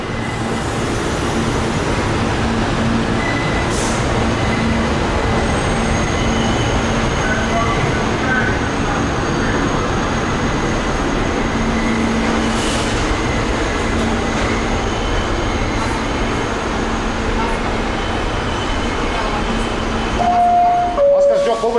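Inside the first car of a New York subway train in Brooklyn, a loud steady rumble of wheels and motors fills the space, with faint squeals and clicks and occasional voices beneath.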